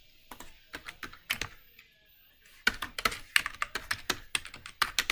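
A computer keyboard is typed on while C++ code is written, with sparse, soft keystrokes at first, then a brisk run of close, distinct clicks after a short lull.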